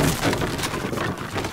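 Hatchet chopping wood in a video game, a few quick splintering cracks over a busy, noisy background.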